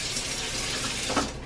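Water runs steadily from a kitchen tap into a pot to be filled for cooking rice: a constant, fairly loud hiss and splash with no break.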